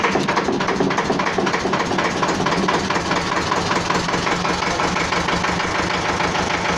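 A Renault car engine running at idle just after starting, a steady rhythmic mid-to-low rumble with faint knocking pulses throughout, close and fairly loud, no speech.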